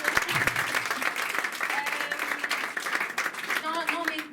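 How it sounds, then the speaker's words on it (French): Applause from a comedy show audience, a bright continuous patter of many hands with some cheering, while voices talk and laugh over it. "Non, mais n'applaudissez pas"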